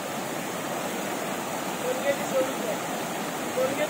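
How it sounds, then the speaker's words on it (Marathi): A stream flows past in a rural village setting, heard as a steady, broadband rushing and gurgling of water, continuous and moderately loud throughout, with faint higher chirps or calls over it. "इकडून एक नदी टाईप ओढा वाहत येतोय"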